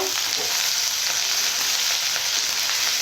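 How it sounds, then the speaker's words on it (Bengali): Biryani masala stirred in a frying pan for capsicum chilli chicken, a dense continuous sizzle with faint stirring scrapes, close and loud throughout. "এখানে আমি বিরিয়ানি মশলাটা দেব তো মাপ অনুযায়ী মশলাটা দেবো দিয়ে ভালো করে এইভাবে নেড়ে চেড়ে নেব"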